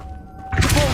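The Revelio spell in Hogwarts Legacy is cast as a quiet low hum with a faint tone that erupts halfway into a bright, loud shimmering whoosh and holds there.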